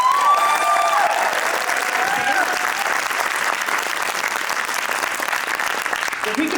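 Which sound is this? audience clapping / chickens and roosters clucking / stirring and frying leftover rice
audience clapping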